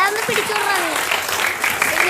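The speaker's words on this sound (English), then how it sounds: "A big round of applause for that." An audience at an English theatre camp bursts into applause, clapping mixed with excited voices and cheers that rise and fall over the short burst.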